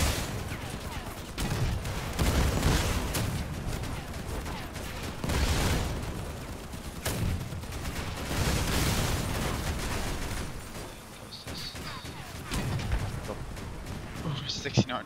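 Cannon fire booms repeatedly in a video game, heavy blasts landing every second or two over a dense, constant wash of battle noise, loud and continuous throughout.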